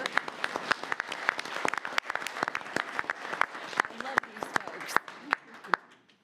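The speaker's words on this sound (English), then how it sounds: "Another round of applause." A round of applause breaks out at a city commission meeting: sharp, irregular claps from a small crowd in a room, fairly close, tapering off at the end.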